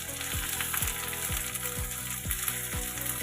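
Mutton with turmeric and coriander powder fries in a loud steady sizzle while a spoon scrapes and mixes it in regular strokes, close and alone.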